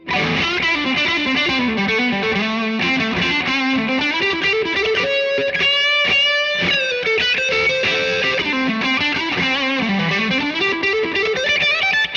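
Electric guitar played through a Marshall-style overdrive pedal with reverb, loud and continuous, with driven chords and single notes that vary in intensity as the volume knob cleans up the tone; no talking.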